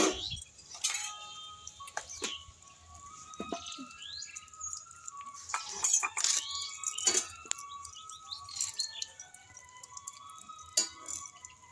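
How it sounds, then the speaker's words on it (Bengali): A knife scales and cuts bhola fish: irregular sharp scrapes and crisp clicks, close and fairly quiet, with faint high chirping tones in the background and no talk. "এইভাবে আঁশ ছাড়িয়ে মাছগুলো কেটে নেবো আমি"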